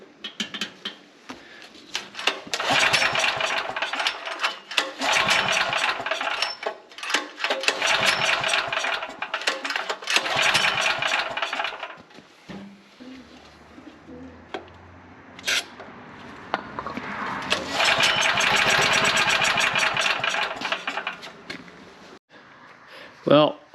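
A Champion generator engine makes repeated loud bursts of cranking and sputtering running, cutting in and out several times before a final longer run, heard up close with a person talking around it.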